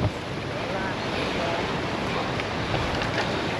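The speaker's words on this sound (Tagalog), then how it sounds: "Susuungin na naman natin ng malalakas na alon." Strong sea waves and rushing wind around a small boat leaving an island, a constant broad roar with gusty microphone buffeting and water wash close by, with no clear speech.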